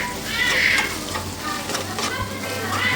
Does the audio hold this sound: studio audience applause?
no